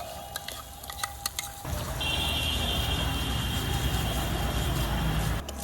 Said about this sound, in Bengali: মশলাটাও দেখুন আস্তে আস্তে কষিয়ে নিচ্ছি আর তেলটা ছেড়ে দিয়েছে